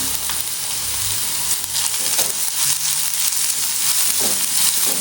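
Chopped onion fries with garlic in a pan, hissing loudly and constantly while a spoon stirs it in a few scraping strokes.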